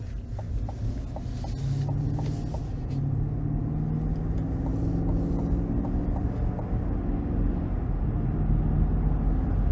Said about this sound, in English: we go ahead and take this new 2023 Tahoe High Country out on the road for a quick test drive